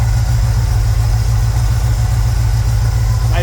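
A 1966 Chevrolet C10 shortbed's small-block Chevy V8 idles steadily up close, a loud, even low rumble with a regular pulsing beat that holds the whole time.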